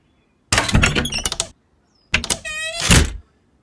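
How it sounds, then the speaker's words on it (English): A door opens in two bursts of creaking and latch clatter separated by a brief silence, the second pass drawn out with a squealing hinge before ending in a solid thud. "He saw a door, so he went in."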